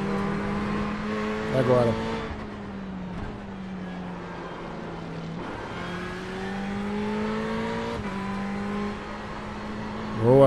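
Ferrari 488 GTE race car in iRacing at Spa-Francorchamps, engine droning and shifting through gears as it pulls past another car, with revs rising and dropping and a brief voice over the steady engine.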